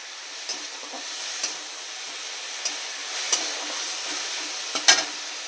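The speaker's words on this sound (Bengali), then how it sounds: "শাকটাকে একটু নাড়াচাড়া করে নিয়েছি" Kalai greens being stirred and fried in a pan give off a steady soft sizzle, with a few sharp scraping clicks of the spatula scattered through it and no voices.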